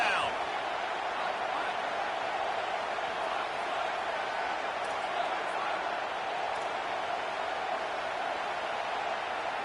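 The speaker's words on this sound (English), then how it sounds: "Decibels rising as the crowd gets behind this defense on third down." A football stadium crowd on third down makes a steady, continuous roar of massed noise at moderate level across the whole stretch, without distinct peaks.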